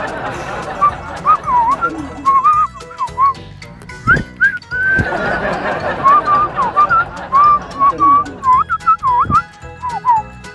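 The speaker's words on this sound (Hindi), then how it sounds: "सर इसका जवाब सीटी में देना था।" A man whistles a reply in a long run of melodic, warbling notes with short pauses between phrases, close and fairly loud, with background chatter and crowd noise underneath.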